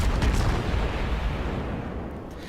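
Naval artillery fire in World of Warships, a dense, loud, rumbling barrage of big-gun blasts blending into a continuous roar that slowly fades.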